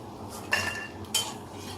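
A utensil scrapes and clinks twice against a pan while makhana (puffed lotus seeds) are stirred and fried, the hiss of frying faint beneath the sharp metallic contacts.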